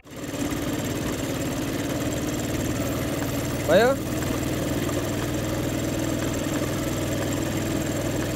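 A motorbike engine idles steadily and evenly all the way through, with one brief voice heard partway.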